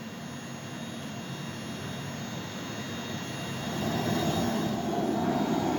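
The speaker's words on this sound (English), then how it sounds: "Back into the belly of the forge for round 2 of high heat cooking." A gas forge roars steadily as a welded Damascus steel stack, made from car shock absorbers and fitted with a rebar handle, heats inside it. The broadband rush is continuous and close, swelling slightly louder partway through, with no voices.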